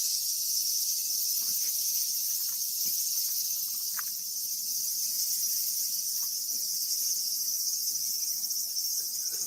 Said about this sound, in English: They said it's just the sound of cicadas in Tokyo.